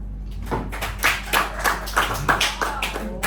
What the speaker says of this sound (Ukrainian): Правда, що жінки теж плескають.